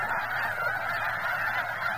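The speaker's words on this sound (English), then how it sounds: "Looking at these birds over here." Geese honking in a dense, continuous chorus at Bosque del Apache as flocks come in to land for the night, a steady overlapping clamor of many birds at moderate distance with no talk.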